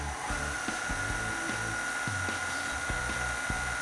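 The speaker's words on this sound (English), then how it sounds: "So I'm going to turn the KitchenAid to power 2." A KitchenAid stand mixer running its pasta roller attachment at speed 2, giving a steady close mechanical whir with a regular ticking, clicking rhythm from the gears throughout.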